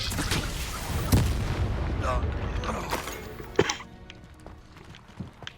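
A Confringo fire spell goes off in Hogwarts Legacy with a sharp explosive boom near the middle, amid a dense layer of in-game combat noise, creaks and clatter, with voices talking over it.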